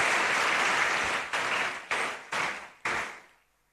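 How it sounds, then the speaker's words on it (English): Applause from an audience at a ceremony, a dense wash of clapping that dies off in a few surging bursts before fading to silence. "Please give her a big round of applause."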